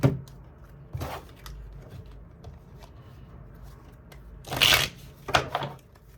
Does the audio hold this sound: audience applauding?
no